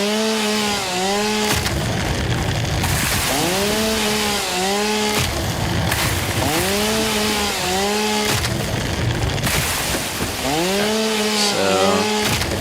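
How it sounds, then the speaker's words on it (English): A chainsaw in the video game Satisfactory runs steadily at close range, its whining engine pitch rising and falling in repeated revving cycles over a constant cutting roar. "If I need to turn the chainsaw down, let me know."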